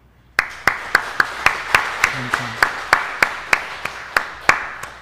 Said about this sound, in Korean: 이런 예수님 앞에 우리 한번 박수 한번 올려드립시다.